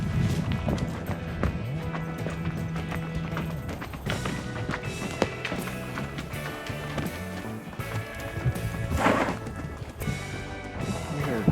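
Mammoth donkeys walk a rough mountain trail on the eastern side of the Sierra Nevada. Their hooves make steady, close, uneven clip-clop steps over rocky ground.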